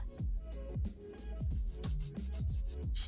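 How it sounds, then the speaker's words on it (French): A 180 grit nail file working across delicate fingernails: soft, repeated rasping strokes in a steady back-and-forth rhythm, close and quiet, with no talking. "J'ai besoin d'une lime à grain 180, car ces ongles sont très délicats."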